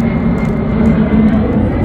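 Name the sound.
airplane flying overhead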